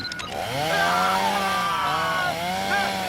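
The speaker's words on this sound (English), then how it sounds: "I told you to lose that chainsaw." A chainsaw buzzes steadily at close range, its whining engine pitch wavering slightly as it runs for a few seconds.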